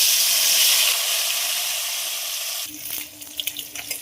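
Bata fish sizzling in hot oil in a wok, a loud steady hiss that drops abruptly partway through to quieter crackles and pops, with no talk.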